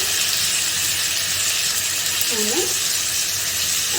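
Chopped tomato hits a hot pan of coastal Kundapura-style prawn sukka and sizzles with a dense, continuous crackle, while a brief murmur of a voice rises midway.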